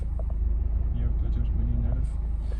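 A Renault Clio 4 idles with a steady low rumble that is close and even, while faint talk and small background noises sit over the engine.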